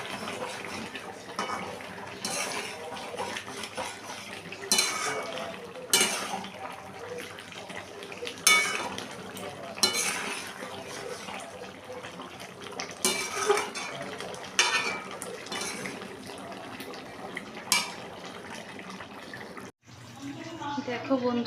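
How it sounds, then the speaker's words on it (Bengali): Andhra-style dry chicken being stirred in a pan with a green chili and coriander paste, soft sizzling under repeated scraping and clinking of a spoon against the metal, close, with a brief pause near the end. "এটাকে এবার আমি মিশিয়ে দিচ্ছি"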